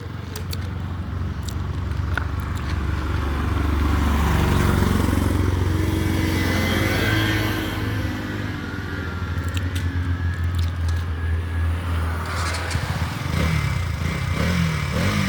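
A KTM Duke 200 motorcycle engine drones steadily under rushing wind while riding, a constant low rumble throughout.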